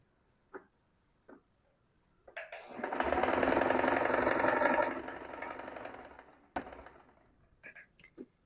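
A sewing machine runs a steady burst of stitching along the seam of a panty made without elastic, loud and close, with a few soft clicks of fabric handling before and after the run.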